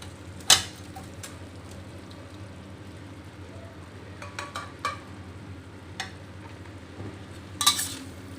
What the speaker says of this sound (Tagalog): Haluin lang natin guys ng mabuti para ma-absorb ng hipon yung ating sauce.